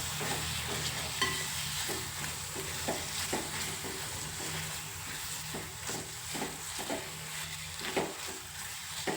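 Roasted brinjal being stirred into a pan for Maharashtrian bharit, giving a steady run of soft spoon scrapes over a low sizzle, close and moderately loud, with no talking.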